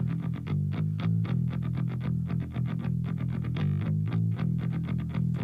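Distorted bass guitar runs through an amp with a smoothing filter taming the top end, a dense, steady stream of gritty picked notes, loud and continuous throughout.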